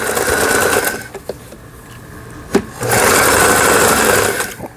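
A Pfaff 422 domestic sewing machine stitches in two loud steady bursts of rapid mechanical whirring, separated by a quieter pause with a brief click.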